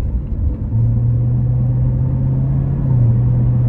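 A 2019 Corvette Z06 with 650 horsepower rumbles deep and steady while driving under light throttle, a close, continuous engine drone with no talking.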